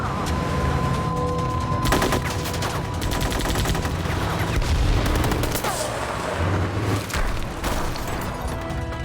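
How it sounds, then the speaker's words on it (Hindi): Gunfire erupts in a fierce attack, with rapid bursts and heavy single shots cracking loudly over a dense, booming background that never lets up. "हम तो फायरिंग कर रहे हैं सर।"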